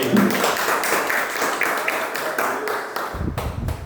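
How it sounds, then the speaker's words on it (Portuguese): A church congregation in Pelotas, Brazil, applauds during a worship service, a dense run of hand claps that thins toward the end, with a voice briefly heard near the start. "Vamos aplaudir ao Senhor Jesus"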